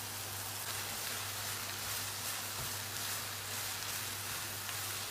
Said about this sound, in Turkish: 1-2 tur karıştırdıktan sonra üzerine doğramış olduğum domatesleri de ekleyip kavurmaya devam ediyorum